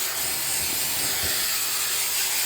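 Oil-based sealant primer sprayed onto new bathroom drywall gives a steady, continuous close hiss that holds at the same level throughout, with faint low knocks underneath.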